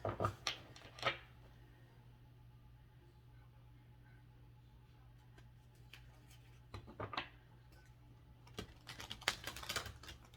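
Oracle cards are shuffled in several quick, crisp bursts close up, with quiet pauses between rounds.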